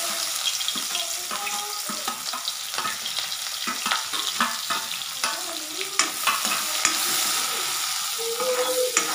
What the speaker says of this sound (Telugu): ఆనియన్స్ బాగా వేగేదాకా వేయించుకోవాలి ఫ్రెండ్స్